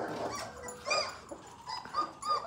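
A litter of purebred Irish setter puppies whimpers and yips in short, high, overlapping cries close by, with little pause between them.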